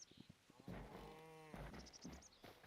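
A cow lows once in a long, drawn-out moo inside the video game Hytale, quiet and fairly near, with light clicks and soft game sounds around it.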